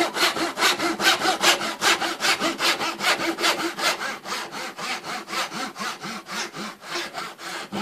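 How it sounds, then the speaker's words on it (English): A hand saw cuts a 6mm bare-face mortise and tenon joint in wood in steady back-and-forth strokes, each rasping pass evenly spaced and close by, with no talking. "Keep your saw straight, cut straight down."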